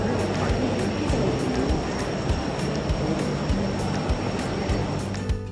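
An airplane at the new Bhogapuram airport near Visakhapatnam gives off a sustained, steady roar that fills the whole stretch with broad engine and rushing noise and no voices.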